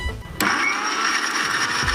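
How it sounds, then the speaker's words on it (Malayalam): Kitchen blender grinding chopped mint leaves, a loud steady whirring roar that kicks in abruptly after a short thump and runs unbroken to the end. "അത് നമ്മൾ ജസ്റ്റ് ഒന്ന് അരിഞ്ഞിട്ടൊന്ന് ഇടുന്നേ അരച്ചെടുക്കാം."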